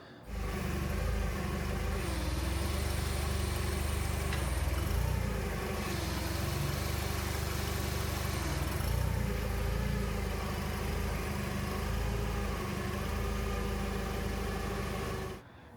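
A forklift engine runs steadily near a cracked-head Cat 977H loader. The mid-pitched motor hum and rumble continue loud and unbroken for the whole stretch, with no talk.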